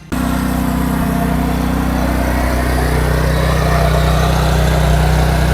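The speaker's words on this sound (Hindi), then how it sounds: "अरे भाई साहब 12 HP का इंजन है, आवाज कैसे करेगा?" A 12 HP engine on a tiller ploughing dry, barren soil runs in a steady, loud drone with a low rumbling hum, constant throughout and with no talk.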